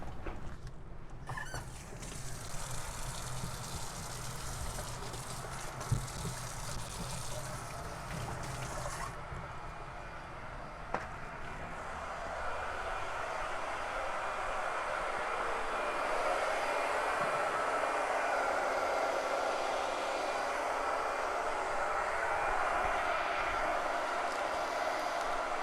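Hand-held dryer blowing over chalk paste on a burlap board: a steady whooshing air hiss running throughout, shifting in tone as the dryer moves, fairly quiet, with faint handling noises and no speech.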